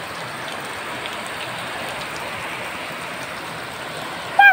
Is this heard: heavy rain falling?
yes